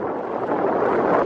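Wind gusts across the microphone at the boat docks on a cloudy day, a steady, loud broadband rush with no clear voices.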